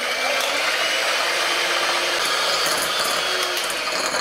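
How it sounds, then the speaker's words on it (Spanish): An electric mixer whisks egg whites with salt in a bowl for a homemade sponge cake, producing a steady, loud whirring hiss that runs unbroken throughout, close up and with no talking. "Empezamos a batir y a media batida le incorporamos el azúcar."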